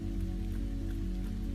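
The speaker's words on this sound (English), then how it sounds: "It's 44 degrees and it's nice and rainy outside." Steady rain falls outside on a cold, wet day, a continuous even hiss with a constant low hum beneath it and no speech.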